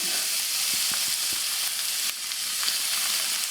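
Sliced pepper sizzling steadily in a hot frying pan for a Mexican beef tortilla bake, a continuous close hiss with occasional soft crackles and light stirring taps.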